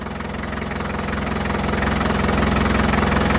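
A Land Rover Defender engine idles with a Dynamat liner fitted under the hood, a close, steady, pulsing mechanical throb that grows slightly louder over a few seconds.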